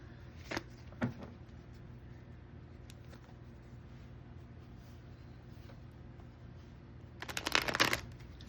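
Tarot cards are shuffled in a quick riffling burst near the end, preceded by a couple of soft taps, over quiet room tone with no voices.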